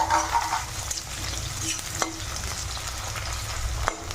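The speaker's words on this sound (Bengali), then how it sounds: "পেঁয়াজটা লাল করে ভেজে নেব।" Onion frying in oil for a Bengali chicken curry, a steady close sizzle broken by a few sharp scraping strokes of a spatula stirring the pan, with no voices.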